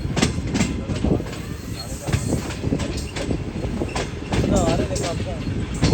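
The Shah Hussain Express rumbles over a temporary diversion track built around underpass construction, a continuous close roar with clattering wheel rhythm and faint squeals, a voice speaking over the noise.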